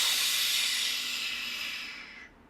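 A person exhales through the teeth during a singer's breath-control exercise, imitating a tea kettle. The steady, loud hiss lasts about two seconds, fades slightly, then stops abruptly.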